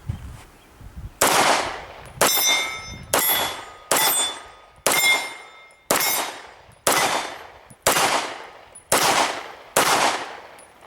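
A Sig Sauer P226 MK25 pistol fires ten loud, sharp shots at a range, each a hard crack with a ringing metallic tail, spaced about a second apart in a steady slow rhythm, with no talking.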